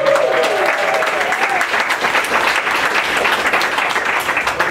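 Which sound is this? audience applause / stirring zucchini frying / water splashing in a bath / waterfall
audience applause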